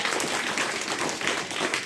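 Applause from a crowd at a children's assembly in a Zilla Parishad primary school in Suppa, Gangakhed, welcoming a student speaker: a dense, steady wash of many hands clapping close by for about two seconds, with no talking over it.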